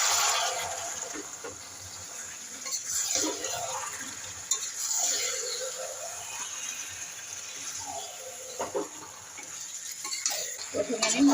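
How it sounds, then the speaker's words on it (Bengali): Goat meat sautéed with spices and turmeric in a pot: a soft sizzle runs beneath repeated scraping and stirring strokes of a spoon against the metal, at close range. "প্রথমে আমি মশলা দিয়ে কষিয়ে নেব মাংসটাকে"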